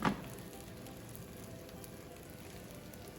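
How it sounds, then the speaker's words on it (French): Toast fries gently in a pan with a knob of butter, giving a soft, steady sizzle with a small crackle at the start, faint and close, with no talk over it. "gentiment à la poêle. Avec un petit peu une noix de beurre ou bien un peu d'huile comme vous voulez."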